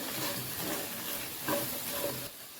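Fried okra seasoned with salt and chilli powder is stirred in a pan, with a steady soft sizzle and faint scraping of a spoon, quiet and continuous throughout.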